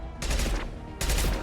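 Gunfire in the video game Mass Effect 2 comes as two loud, close bursts of rapid automatic shots, the first brief and the second starting a moment later and running on to the end.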